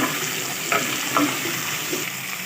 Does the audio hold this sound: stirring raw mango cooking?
yes